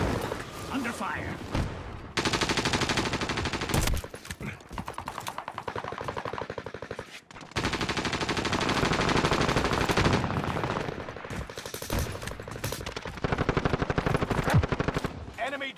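Rapid automatic gunfire in the video game Warzone pounds in long, loud bursts separated by short gaps, with distant booms and game voice callouts mixed in.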